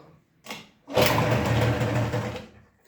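Honda Dio scooter engine catching after a brief first crank, then running loud and steady for a couple of seconds before cutting off.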